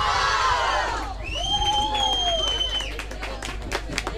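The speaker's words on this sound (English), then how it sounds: "depend on the cheering of their Spanish compatriots" Spanish supporters at a tournament cheer loudly, with a rising whistle-like chant and shouting from a close, dense crowd, followed by scattered claps and calls.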